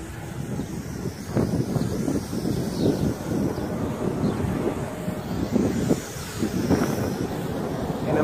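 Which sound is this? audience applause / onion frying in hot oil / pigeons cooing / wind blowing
wind blowing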